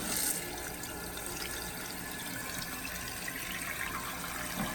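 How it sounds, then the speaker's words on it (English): Water rushes steadily into a toilet tank as it refills after the supply valve is turned on, a close, continuous hissing gush that holds even for several seconds with no talk. "As you can see, it's starting to fill up. We've got water going in here."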